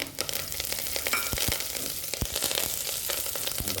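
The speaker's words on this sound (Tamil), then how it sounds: "இப்போ இதுலேயே கறிவேப்பில போடுறேன்" Curry leaves fried in oil for a spiced puffed rice snack give a steady, close crackling sizzle with scattered sharp pops throughout.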